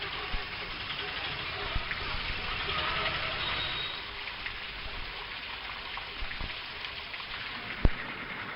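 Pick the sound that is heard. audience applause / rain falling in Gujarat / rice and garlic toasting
rain falling in Gujarat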